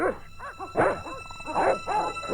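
Dogs bark loudly and close in the video game Broken Sword: The Shadow of the Templars, a quick run of several sharp barks and yips in an uneven rhythm.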